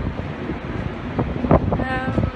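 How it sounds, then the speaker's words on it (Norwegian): Steady wind buffets the microphone on the deck of a Stena Line ship, a continuous rushing roar with faint voices mixed in. "Det blåser her."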